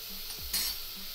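Homemade butter, about a spoonful, melting and sizzling in a deep cooking pot as the base for tempering misal pav bhaji, a short soft hiss that swells briefly and fades.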